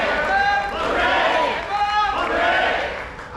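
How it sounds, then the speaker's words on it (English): An assembled crowd at a school alumni golden jubilee gives three cheers, shouting in unison in a few loud, sustained bursts that swell and fade in a large gathering. "This is our 3 cheers."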